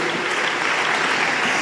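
Sustained congregation applause at a church preaching service, steady dense clapping from many hands, loud and continuous with no voice over it.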